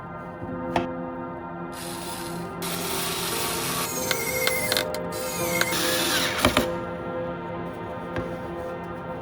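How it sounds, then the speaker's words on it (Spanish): Two screws are driven into a wooden block that serves as a spacer on a wooden base, giving close mechanical grinding, ratcheting and rubbing in bursts with sharp clicks and brief pauses between. "Atornillaremos este suplemento de madera con estos dos tornillos."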